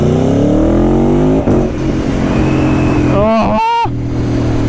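An Aprilia Tuono V4 1100 Factory motorcycle engine accelerates hard on a sunny Sydney road, its pitch climbing steadily. It drops on a gearshift, settles, then gives two sharp throttle blips before a loud, steady drone.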